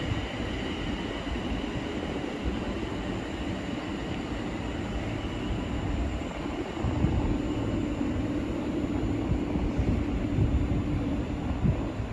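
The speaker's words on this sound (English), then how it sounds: "Now departing is the 1404 London North Western Railway service from Milton Keynes Central to London Euston." A London Northwestern Railway train pulls out of Milton Keynes Central, a steady low rumble of wheels and traction that keeps up throughout and swells slightly toward the end, heard close at trackside with no talk.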